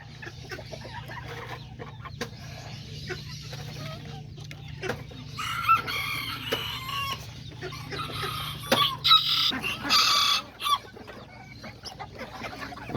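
Chickens cluck and chatter nearby, growing busier midway, with a rooster's crowing calls joining toward the end over steady background hum.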